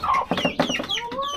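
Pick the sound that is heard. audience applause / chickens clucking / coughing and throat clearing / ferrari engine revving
chickens clucking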